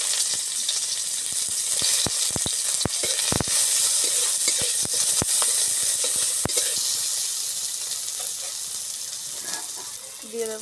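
Chopped onion and five-spice seeds sizzle in hot oil in a wok after fish has been fried, a loud, steady hiss broken by sharp clicks and scrapes of stirring that fade toward the end.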